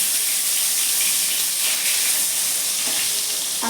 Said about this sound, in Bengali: বেগুনটা ভেজে নিচ্ছি হালকা করে ভেজে নেব